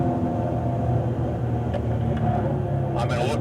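A 2016 Cadillac ATS-V pulls hard on the track at Circuit of the Americas, its engine a loud, steady rumbling drone heard from inside the car for the whole moment, with a few brief higher rattles near the end.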